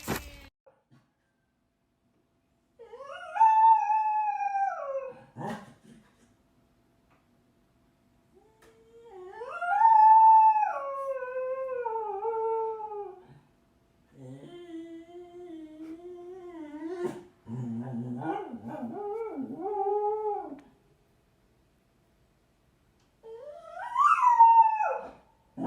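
A dog whines and howls indoors in long, rising and falling wails, several separate bouts with quiet gaps between them, fairly close and alone without talk.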